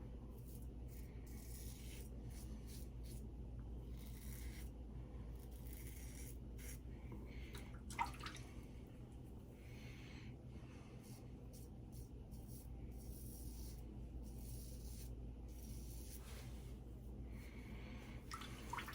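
A Shield gem-style razor scrapes through lather of Buccaneer Bay Rum shave soap on a first pass, giving faint, quiet scratchy strokes at an irregular pace with soft breathing in between.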